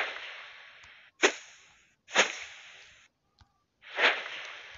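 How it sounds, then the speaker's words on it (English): Whoosh sound effects from the Kinemaster asset store: a long fading airy rush followed by several sharp swooshing sweeps, each rising quickly then trailing off, with a faint tick between them. "Especially the whoosh sound."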